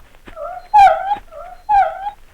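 Dog whimpers from a horror video game, two paired whining cries in quick succession, close and clear with no talk over them.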